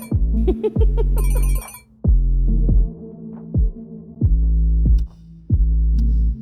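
A repeating electronic ring pulses in regular bursts, each tone sliding downward, with short gaps between rings; loud and close.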